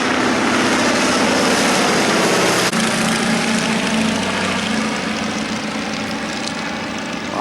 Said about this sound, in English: coming in from the right is our biplane flight. 3 Stearmans just overhead.